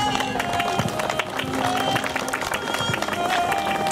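Applause from an audience at a 2012 town project-completion ceremony in Zvolen, Slovakia: dense, steady clapping that runs loud and unbroken through the whole moment, with some crowd noise mixed in.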